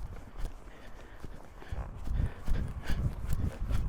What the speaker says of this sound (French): mon cheval, il fait des petites foulées au galop